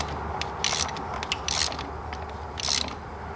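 A ratchet clicks in short bursts while tightening a fastener on a Western snowplow motor, crisp close mechanical ratcheting repeated three times over a low background hum.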